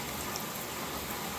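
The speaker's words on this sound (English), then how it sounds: "Nothing like a nightly summer rainfall during this wonderful Father's Day." Steady nightly summer rain falls in an even hiss heard from a balcony, continuous and moderately loud with no voices.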